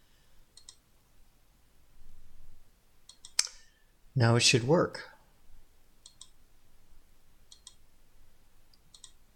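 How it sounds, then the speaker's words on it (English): Mouse clicks on a browser canvas running a JavaScript particle animation, several faint, sparse ticks scattered across the clip, with a short burst of speech in the middle. "So I'm clicking on the canvas"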